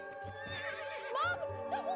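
A horse whinnies twice in a lively, rising neigh with harmonic swoops, heard fairly close against a low steady hum and background stirring.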